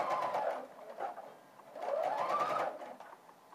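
A sewing machine stitches bias binding in two quick bursts of rapid mechanical whirring with a brief pause between, close and fairly loud, with no talking.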